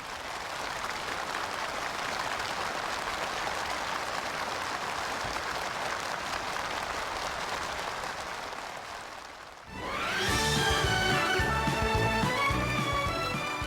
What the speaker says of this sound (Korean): 열렬한 박수갈채와 격정의 환호가 터지오르는 속에